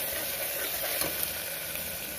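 Ground roasted masala paste sautéing in oil for Chettinad-style mutton kuzhambu, a steady, close hiss of frying with a soft stir or two.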